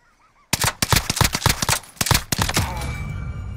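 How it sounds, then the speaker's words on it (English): Flashbang and gunfire in the shooter video game Caldera, a sudden loud burst followed by a rapid string of sharp close shots for about two seconds, then a lingering ringing hiss. "Just a little flashbang."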